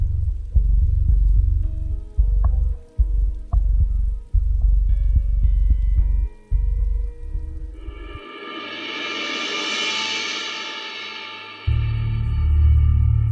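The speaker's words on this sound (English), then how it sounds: "This heavy rain will probably last all day." Heavy rain pours down in a steady, dense hiss that swells for several seconds, between stretches of low rumbling background.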